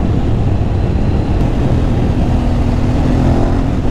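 Motorcycle engine, a Yamaha MT07 or Aprilia Shiver 900, roaring continuously while riding on open roads, loud and close with rushing wind noise mixed in, no voices.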